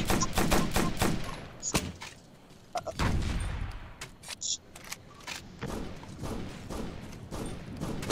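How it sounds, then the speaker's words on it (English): Gunfire in the military video game Operation Flashpoint: Dragon Rising: a string of sharp, close shots and bursts at an irregular pace, with some thuds between them and brief voices. "Whoever has the gun, shoot dead ahead on the road."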